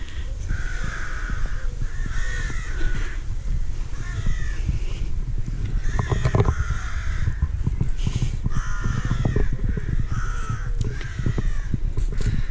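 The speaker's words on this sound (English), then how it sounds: "I'm so sorry for the birds making so much noise." Crows caw repeatedly in noisy overlapping bursts, some close and some farther off, over a steady rumble of wind, in the grounds of Horwood House near a pagoda.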